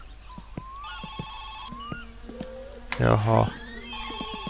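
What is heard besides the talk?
telephone ringing in video game My Summer Car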